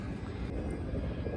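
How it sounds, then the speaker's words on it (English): Helicopters running outdoors produce a continuous, heavy, low engine rumble that is loud and steady throughout, with no talking. "You can hear the helicopters running right now."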